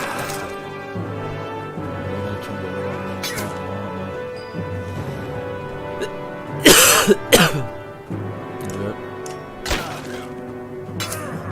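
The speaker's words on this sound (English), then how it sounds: "Sorry about me coughing, by the way." A few sharp coughs burst out in the middle of the stretch, loud and close, over a steady background of music-like tones.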